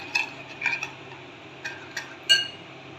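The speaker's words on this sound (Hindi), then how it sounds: "इन सब चीज़ों को हम अच्छे से मिक्स कर लेंगे।" A spoon stirs crushed red chilli, garam masala and turmeric together in a bowl, giving soft, quiet scraping with several light clinks spaced out over a few seconds.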